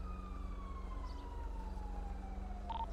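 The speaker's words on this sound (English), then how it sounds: "I hear sirens already?" A police siren in a video game wails steadily in a long, slowly falling tone, heard at a moderate distance over a low engine hum.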